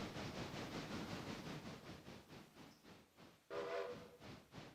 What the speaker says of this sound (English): Sometimes you just gotta blow the whistle.